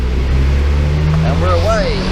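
A turbocharged van pulls hard at full throttle on a road, its engine drone steady and loud, with a rising whine climbing over it near the end.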